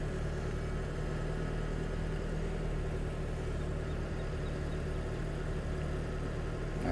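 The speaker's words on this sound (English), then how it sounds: "So we've got the car started up." A 2019 Toyota Camry XSE idles steadily just after start-up, a low, even engine hum that holds at a constant level throughout with no revving and no voices.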